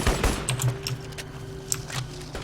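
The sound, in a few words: gunfire in the video game Crysis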